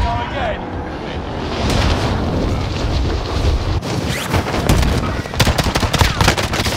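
Rapid video game gunfire crackles in dense bursts over a noisy battle din, growing sharper and more frequent toward the end, with players talking excitedly throughout.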